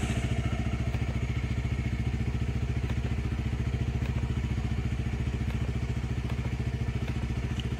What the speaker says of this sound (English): I'll just give it a snap throttle